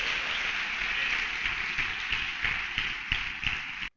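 Church congregation applauding during a sermon, a steady wash of many hands clapping in a hall, moderately loud and sustained, with a few sharper individual claps standing out before it cuts off abruptly.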